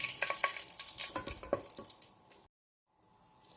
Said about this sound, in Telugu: ఆయిల్ హీట్ అయిన తర్వాత బిర్యానీ స్పైసెస్ వేసుకొని ఫ్రై చేసుకోవాలి.